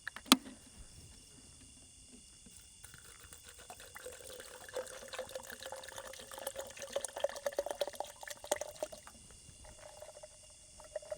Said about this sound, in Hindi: इसमें पानी भी डालना होता है।